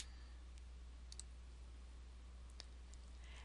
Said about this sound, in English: Click OK to proceed.